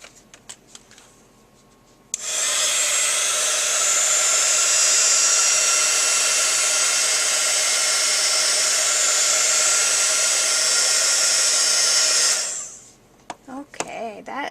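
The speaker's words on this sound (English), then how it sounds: "I'm going to take my heat tool and just dry it to see what I came up with." A heat tool blowing to dry homemade glimmer mist, a loud steady whooshing roar that starts abruptly, runs about ten seconds and then cuts off, with light handling clatter before and after.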